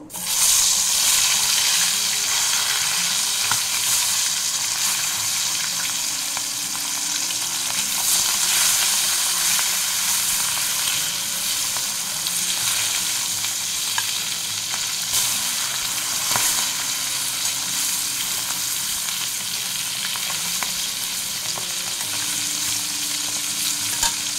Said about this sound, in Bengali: তেল গরম হয়ে গেছে, মাছটা আমরা ভেজে নেব।